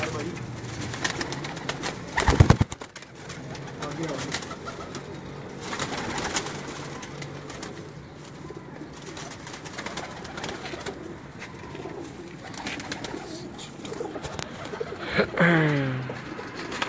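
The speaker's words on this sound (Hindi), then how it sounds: "ये इनकी पसंद का कबूतर है और बड़ा ही ज़बरदस्त कबूतर है" Pigeons in a loft in Gujrat make soft cooing calls, clearest near the end, over a steady background of rustling. Someone talks throughout, with a sharp knock early on.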